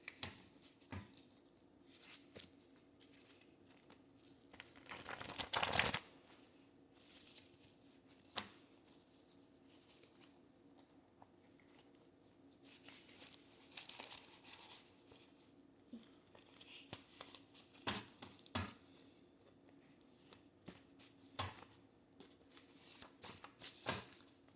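Tarot cards being shuffled, soft quiet riffling and patter with a louder burst of flicking near the start and scattered light taps throughout, no talking.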